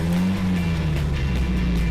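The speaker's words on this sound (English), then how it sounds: "That engine startup." A small car's engine starts and settles into a steady low drone in the Gran Turismo 5 racing game, a brief continuous engine tone with no talking.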